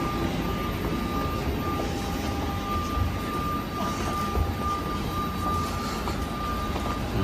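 Steady, droning airliner engine noise fills the cabin, a constant low roar with a faint hum, no talking.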